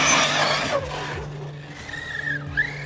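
An Arrma Kronos 6S RC car drives hard, its motor whining and tires skidding in a squealing slide, followed by a rising, revving pass; loud and close.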